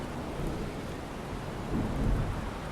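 Steady rain hisses throughout a dark outdoor scene in the survival video game Miscreated, with a low rumble of thunder swelling near the end, fairly quiet and continuous with no voices.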